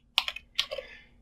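Short burst of keystrokes on a computer keyboard while a network scan command is entered: a handful of crisp, close clicks in quick uneven rhythm, with no talking.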